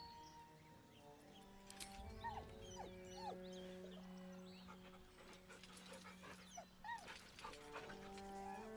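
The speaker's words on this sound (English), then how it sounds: "With a deep, heartbroken whine, the dog bows his head." A dog whines in Baldur's Gate III, a few rising high whimpers over a steady layered game music and ambience bed, with no talk.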